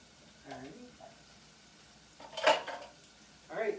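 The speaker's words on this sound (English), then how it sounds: "give that another stir as that continues to cook" White bean and spinach soup is stirred in a pot, with a spoon clinking and scraping against the sides in a few separate bursts, soft and close, with a faint voice briefly in the background.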